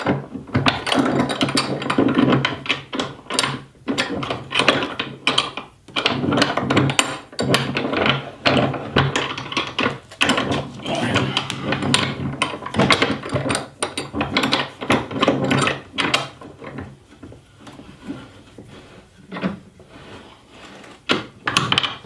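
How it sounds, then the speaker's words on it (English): A woodworking vise is fitted to a workbench, with repeated wooden knocks, clunks and ratcheting mechanical clicks from close by, in irregular bursts and no talking. "And now I can put my vise in."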